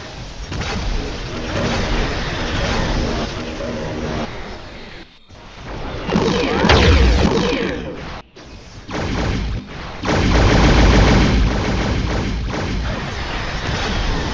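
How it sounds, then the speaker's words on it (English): A Star Trek Bridge Commander space battle against a Borg Temporal Cube, with dense, loud rumbling weapon fire, thuds and explosions running almost continuously and broken by a couple of brief drops. "Ooh, I like a torpedo launch."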